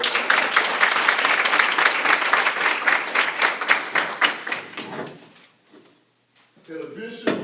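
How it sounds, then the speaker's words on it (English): Audience at a school district board meeting applauds an award recipient, dense steady clapping for about five seconds before fading out, followed by a short voice. "Let's give her a round of applause."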